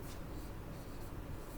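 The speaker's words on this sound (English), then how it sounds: "So mojo, I'll write mojo over here." Marker or chalk strokes a word onto a classroom board in a short, close, scratchy rubbing burst, with no talking over it.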